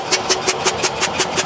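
Two engines driven together by a 7.5 motor at a pipe manufacturing site, giving a steady mechanical run with a regular rapid pulsing beat, about eight even pulses in under two seconds, close and moderately loud with no talk.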